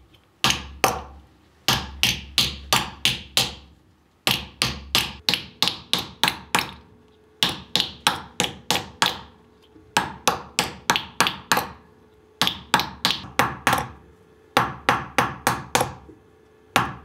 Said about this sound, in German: Durch das Hämmern haben sich die Moleküle vom Messing verdichtet.